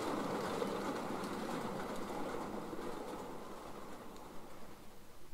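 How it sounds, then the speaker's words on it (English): A model railway J6 steam locomotive hauls a mixed freight train on a layout, giving a steady close rumble and rolling rattle of small wheels that slowly fades, with no talking. "the wheezing J6 heads a mixed freight westwards"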